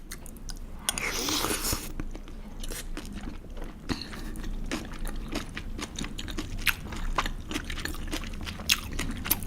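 Cold naengmyeon noodles eaten with LA galbi beef, close-up chewing and crunchy bites with soft slurps, fairly quiet and steady.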